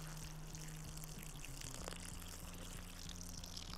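Water pours steadily into a pot in the video game Cooking Simulator, a faint continuous gush with a low tonal hum running under it.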